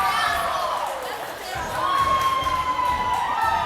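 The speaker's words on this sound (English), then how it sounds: "Their fans applauding it as well." Fans at a U19 AA girls' ice hockey game, York Lady Devils against the NJ Rockets, cheer and applaud in a steady, roaring crowd swell, with shouts rising over the noise from start to finish.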